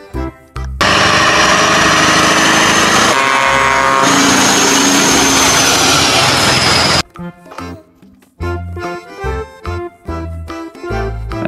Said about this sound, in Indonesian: Mobil truk kontainer.